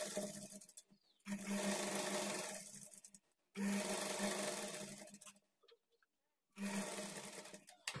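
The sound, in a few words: sewing machine stitching a blouse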